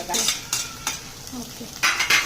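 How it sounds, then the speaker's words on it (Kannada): Onion and vegetables frying in oil for a Maggi noodle veg dish, with a steady close sizzle broken by several sharp scrapes and clinks of a spoon stirring against the pan. "ಈರುಳ್ಳಿ ಜೊತೆಗೆ ಇದನ್ನ ಸ್ವಲ್ಪ ಫ್ರೈ ಮಾಡ್ಕೊಂಡ್ಬಿಡೋಣ ಇವಾಗ"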